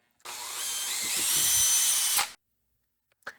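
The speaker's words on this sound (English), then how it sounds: "it on a drill is an amazing implement for stirring" A power drill fitted with a pumpkin gutter whirs steadily for about two seconds, close and loud, then stops, followed by a brief faint clatter.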